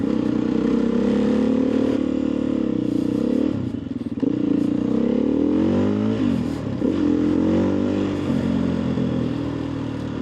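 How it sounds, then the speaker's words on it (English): A motorcycle engine revs loud and close, its throttle rising and falling in sweeping surges over a rough, rattling idle, with brief dips between blips. "God, this bike sounds so good"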